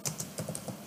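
A few quiet keystrokes on a computer keyboard tap out a short shortcut, about half a dozen crisp, close clicks in quick succession.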